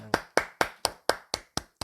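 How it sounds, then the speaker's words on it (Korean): A church congregation at a Friday night prayer service applauds in thanks to God, giving eight sharp, evenly spaced clap bursts in steady rhythm, close and clear with no talking. "우리 하나님께 감사의 박수 올리겠습니다."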